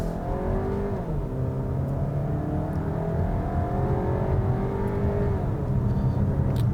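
A 2022 Volkswagen Tiguan SEL R-Line with the 2-liter turbo and 4Motion all-wheel drive accelerates in sport mode. The engine note climbs steadily through gear changes, heard from inside the cabin at moderate loudness.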